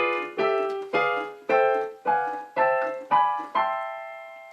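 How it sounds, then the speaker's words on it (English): Piano chords on the sixth diminished scale, a jazz voicing approach with the melody kept on top, played as eight struck chords in a steady stepping rhythm, each ringing briefly before the next, the last held and decaying. "So the scale sounds like this with the chords."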